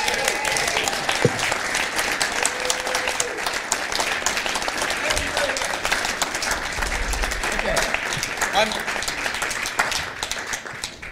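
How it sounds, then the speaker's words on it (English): An audience gives sustained applause for a guitarist at an evening guitar concert, with dense, steady clapping at even loudness and a few scattered voices underneath. "Ladies and gentlemen, please, once again, a big round of applause to Mr."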